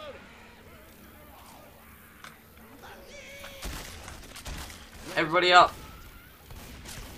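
Gunshots in the zombie co-op shooter Left 4 Dead 2, a few scattered blasts and a louder burst amid game noise, with players talking over the action.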